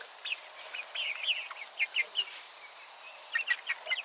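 Rhode Island Red chickens clucking in a backyard, a string of soft, short calls coming in irregular bursts at moderate distance over faint background noise.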